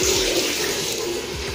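A shower runs in a boarding house bathroom in Tebet, South Jakarta, giving a steady, close rush of water with no voices.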